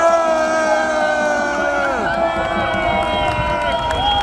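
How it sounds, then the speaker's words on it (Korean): An outdoor crowd at a Seoul Station presidential campaign rally cheers and whoops in a dense, steady roar. A voice over the sound system carries on over the noise. "여러분 박수 한번 크게 보내주세요"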